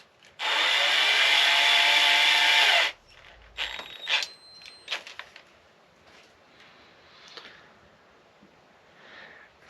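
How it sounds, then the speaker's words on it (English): A drill bores through a small die-cast Hot Wheels toy car wheel in one loud, steady whir of about two and a half seconds, followed by quieter clicks and handling noises. "So what we're going to do is drill this."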